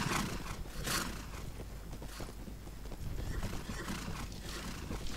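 Cavalry horses in Mount & Blade Warband neigh and whinny over steady hoof clatter. The noise is a dense, faint battlefield wash with no speech.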